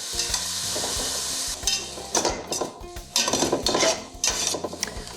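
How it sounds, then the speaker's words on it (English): Onions sauté in a soup pot for pasta and chickpea soup while a utensil stirs them, with bursts of scraping and clanking over a constant sizzle and no one speaking. "we're going to saute it until the onions are soft"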